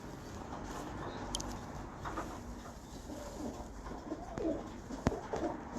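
A female breeder pigeon coos softly in a loft, a low murmuring call heard faintly over steady background noise, with a few brief clicks and rustles.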